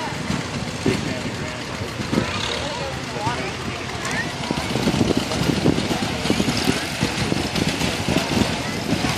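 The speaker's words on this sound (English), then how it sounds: "Next up we got a 1948 Willis Jeep owned by Mark Bishop." A 1948 Willys Jeep, fitted with a tractor-style three-point hitch, runs its engine at an outdoor power parade. The steady rumble sits under constant crowd noise and talk.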